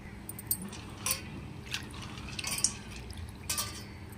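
Chana dal lentils being rinsed by hand in a bowl of water, with soft sloshing and a few light clinks at irregular intervals, quiet and close with no talking.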